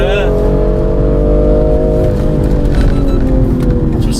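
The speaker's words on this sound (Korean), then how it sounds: "배기음" BMW M340i exhaust in sport mode while driving, a loud, steady engine drone with a gently shifting tone, heard from inside the car and continuous throughout.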